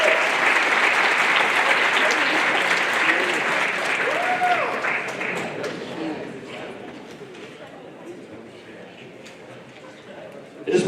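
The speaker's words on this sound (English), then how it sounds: "round of applause." Applause at a school Black History program greets speakers as they walk onto the stage, a loud, full crowd clapping that gradually thins and softens, with voices chattering through it and a few whoops rising above.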